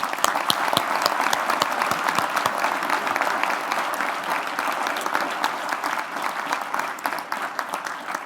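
A crowd at the Conquer Cancer grants and awards ceremony gives the staff a round of applause, steady dense clapping throughout with no talking over it.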